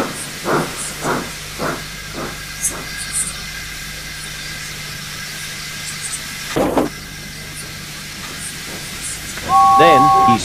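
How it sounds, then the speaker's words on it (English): A steam locomotive shunts trucks in a harbour yard, with rhythmic puffs of exhaust steam at a steady beat, a longer hiss of steam midway and a whistle-like tone near the end, heard under a narrating voice. "Then he steamed wearily back to the yard for some quiet shunting."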